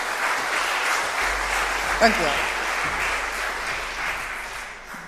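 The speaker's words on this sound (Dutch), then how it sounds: "mag ik een applaus?" Audience applause after the introduction of a speaker at a basic income teach-in: a continuous, fairly even wash of clapping from a room of people, with one brief spoken phrase partway through.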